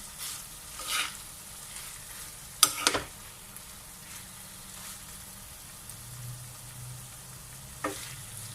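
Liver masala cooks on a tawa in a quiet, soft sizzle, with a few sharp clinks and scrapes of stirring and a faint low hum underneath.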